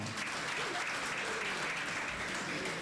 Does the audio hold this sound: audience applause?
yes